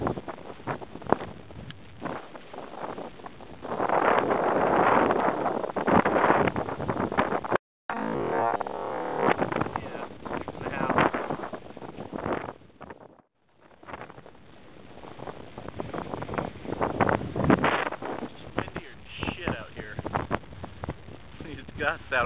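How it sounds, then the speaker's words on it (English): Wind gusts buffet the microphone out on open water near shore after a paddle, a loud rushing roar that swells and drops in waves, with brief cutouts and a voice speaking at times. "Gusts out on the water."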